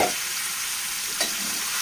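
Cleaned chicken liver and kandanakaya fry in a pan for a curry, a steady soft sizzle with a small clink at the start and another midway, no voices.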